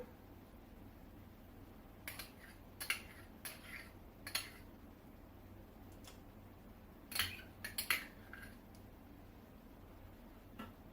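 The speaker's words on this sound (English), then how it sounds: "Hopefully you all at home have a much better can opener than I do and can easily open your can of pumpkin puree" A manual can opener works on a can of pumpkin puree, giving a few scattered metallic clicks and scrapes against a quiet kitchen background.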